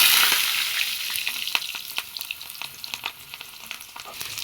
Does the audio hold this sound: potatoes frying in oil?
yes